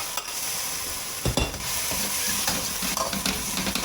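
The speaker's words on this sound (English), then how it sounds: "Give it a little bit of a stir fry." Spring onion and ginger sizzle and hiss in a hot wok for a crab dish, with a steady frying roar and a few sharp spatula scrapes and knocks.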